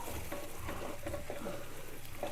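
Spices for palak paneer cooking down in a spoonful of butter with a little yogurt, giving a quiet, steady sizzle with soft repeated stirring strokes close by.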